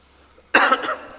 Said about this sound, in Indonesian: ini batuk mulu ya teman-teman ya